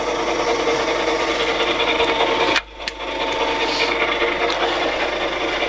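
A Colchester Bantam 1600 MK 2 lathe runs steadily with its carriage travelling under power feed, a continuous mechanical whir and rasp that briefly dips near the middle before resuming.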